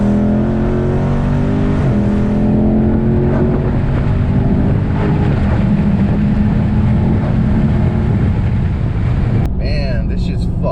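A 2018 Dodge Charger Daytona 392 accelerates hard in a third gear pull from about 50, its loud V8 engine note rising steadily and roaring without a break, with a brief shift or interruption near the end.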